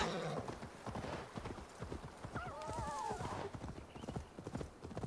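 A horse is ridden in Assassin's Creed Valhalla, steady clip-clop hoofbeats close by with a whinny partway through and faint game ambience behind.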